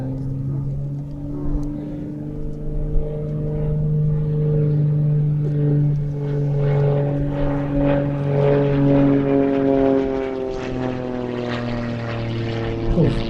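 A Pitts aerobatic biplane flies an airshow display, its propeller engine humming loudly and continuously, with the tone shifting in pitch as it maneuvers.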